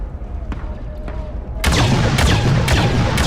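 Gunfire in Star Wars Battlefront 2, a loud sustained burst of rapid shots with sharp repeated cracks breaking out after a quieter stretch of distant single pops.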